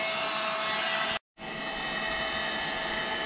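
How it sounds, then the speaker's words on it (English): An air-powered wire wheel grinds undercoating off a car, a loud steady whirring rasp that cuts out for a moment and then spins back up, with no voices. "A wire wheel that is air powered. And it spins."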